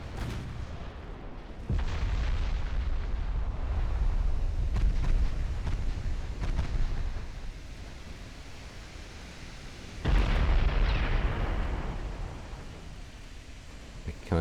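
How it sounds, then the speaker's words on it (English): Deep booming impacts from a torpedo striking the warship San Felipe in Ultimate Admiral: Dreadnoughts 1897 naval battle: a heavy blast early, a rumbling roar of naval combat, then another loud boom later, all low and weighty. "And San Felipe takes a torpedo hit."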